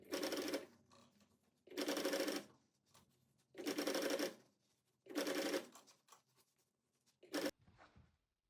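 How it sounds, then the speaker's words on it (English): A sewing machine runs a straight stitch along a narrow rolled hem on a blouse, in four sustained bursts of close, steady whirring separated by short pauses, then a brief final burst, with no talking. "use a straight machine stitch and sew along this rolled hem"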